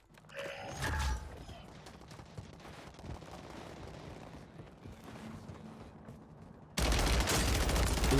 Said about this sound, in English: Hey, watch this shot.